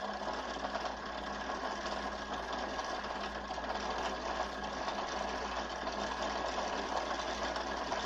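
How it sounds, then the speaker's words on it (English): A sewing machine winds a bobbin for a cosplay costume, producing a steady, continuous motor whir with a fast, even mechanical pulse that holds for the whole stretch, close by and without speech. "let me wind this bobbin."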